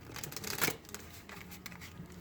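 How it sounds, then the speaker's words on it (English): Tarot cards shuffled by hand close up, a quiet run of riffling and sliding card noise with a couple of louder flurries. "all I'm shuffling is for couples during the videos"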